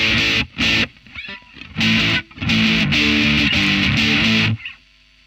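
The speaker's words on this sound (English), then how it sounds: "maybe a distortion could be something more" Electric guitar through a distortion pedal plays short, gritty chords and bursts separated by brief gaps, closing with a sustained distorted chord that cuts off into silence.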